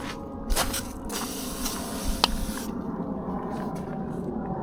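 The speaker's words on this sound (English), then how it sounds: "WD 40, water displacement 40." WD-40 sprayed onto the cylinder head of a 1976 BMW 2002, heard as a few short, hissing aerosol bursts with small clicks and scrapes between them, then a quieter stretch of background hiss; no speech.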